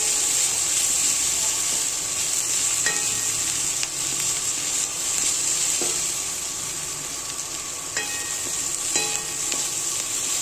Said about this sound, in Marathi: त्याच्यामध्ये आता लसूण टाकून चांगलं परतवून घ्यायचं आहे.